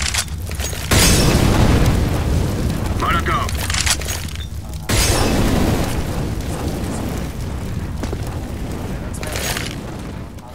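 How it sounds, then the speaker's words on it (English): A Molotov cocktail bursts into flames in Counter-Strike, a loud booming crack followed by roaring fire and clutter, heard twice amid someone talking throughout. "a running Molotov!"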